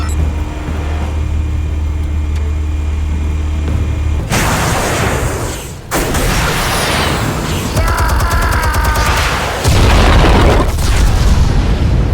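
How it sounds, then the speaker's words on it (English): Explosives detonate in a Batman: The Telltale Series game scene, heavy booms hitting after a low rumbling hum, followed by loud crackling blasts and debris in a dense, continuous barrage with no talk. "Explosives armed. Fire when ready."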